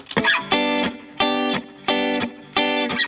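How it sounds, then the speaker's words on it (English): Offbeat reggae guitar skank from a home-produced beat: short, bright chopped chords landing in a steady, evenly spaced rhythm with clean gaps between each stab, played alone and up close. "Obviously the offbeat guitar."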